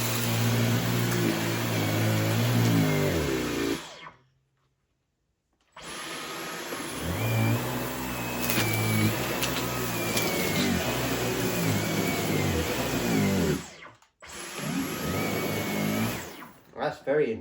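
Dyson V15 Detect Absolute cordless vacuum running on carpet in medium mode, a loud whining motor hum with shifting pitch that cuts out twice briefly before restarting, with voices talking over it.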